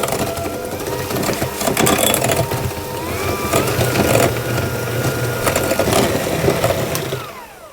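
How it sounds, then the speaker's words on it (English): An electric hand mixer whirs and clatters as it whisks wild blueberry muffin batter in a bowl, a steady close mechanical buzz with rattling beaters throughout, ending abruptly. "as you can see, I'm using my hand mixer"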